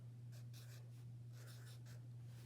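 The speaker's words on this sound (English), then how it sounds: "I want you to write your name" Hand-drawing with a pencil or pen on skin, tracing a pattern on a hand: several short soft scratchy strokes in bursts, close and quiet over a steady low electrical hum, no talking.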